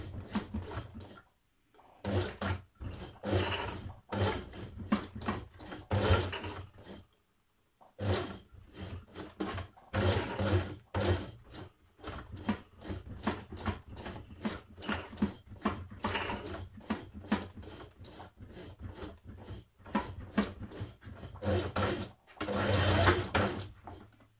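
A home sewing machine stitches slowly over thick elastic at the collar of a blouse, its motor running in bursts of rapid needle pulses with short pauses between, close and fairly loud.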